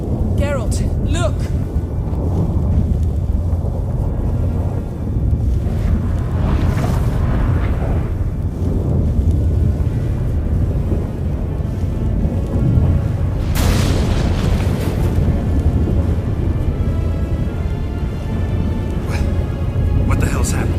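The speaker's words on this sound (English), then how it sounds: "That a storm?" Deep rumbling thunderstorm in The Witcher 3, loud booms and rolling low roar filling the scene, with a sharp crack of thunder midway, heard under game characters' talk.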